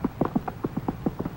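Horse hooves clip-clopping at a steady, even pace, about ten distinct hoof strikes close by at moderate volume, with no talking over them.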